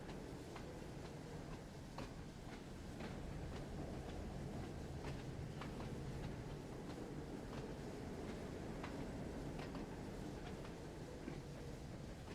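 A train in the Wonders of Sodor video game braking to a dead stop, steady rumbling rail noise with repeated clicking wheel beats spread evenly through, loud and unbroken, with no voices.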